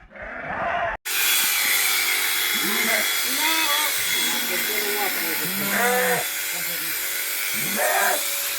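An electric goat-wool shearing machine buzzes loudly and steadily after a brief pause, while goats bleat now and then above the motor's hum.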